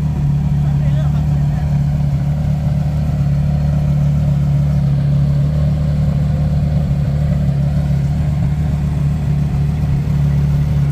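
A Porsche Carrera GT with a modified exhaust idles on a Monaco street, a steady deep droning hum that holds constant and fairly loud throughout with no change in revs.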